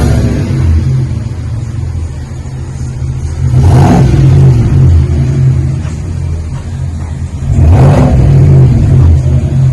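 A 2021 Chevrolet Silverado Z71 Trail Boss with a 6.2 V8 and Flowmaster Super 44 mufflers, idling with a deep loud rumble and then revving sharply twice, each rev rising and falling back to idle.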